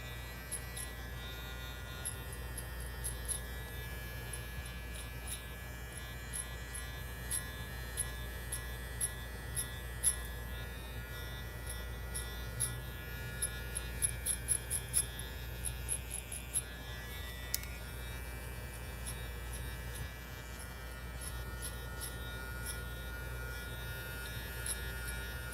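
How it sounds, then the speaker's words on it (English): Electric hair clippers buzz steadily through a home haircut, a low, constant hum with faint crackly clicks as the blades pass through hair. The sound is quiet and close, and no one talks over it. "That's why I like this clipper so much."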